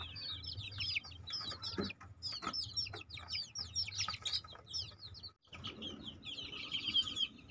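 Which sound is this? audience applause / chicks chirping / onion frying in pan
chicks chirping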